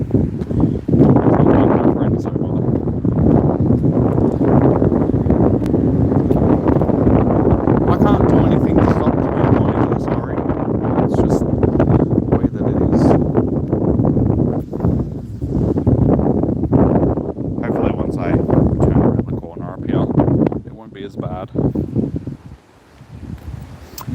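Heavy outdoor wind buffets a microphone in a steady, loud roar that lasts most of the stretch and eases near the end; a voice talks through it.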